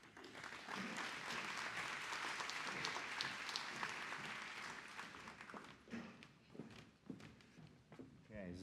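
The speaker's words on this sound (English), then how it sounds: "you can clap like that for me" Conference audience at Children's Advocacy Days welcoming a speaker with sustained applause that gradually thins into scattered claps and shuffling footsteps, heard faintly.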